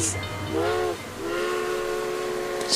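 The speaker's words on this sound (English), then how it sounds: "a train crossing, because there was a train coming" A train passes a crossing in Death Valley, its horn or whistle sounding in two long, harmonic blasts with a brief gap between them, carried over a steady rumbling background.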